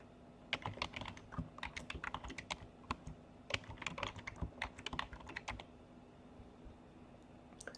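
A password is typed on a computer keyboard during a Cisco Secure Firewall deployment, with a quick irregular run of soft key clicks for about five seconds before the tapping stops, close by and fairly quiet.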